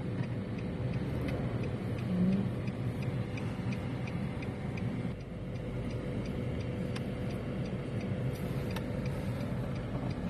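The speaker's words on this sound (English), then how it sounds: "One truck coming." A truck rolls past on a road, a steady broadband engine and tire rumble holding at even loudness throughout, with faint ticking in the background and no voices.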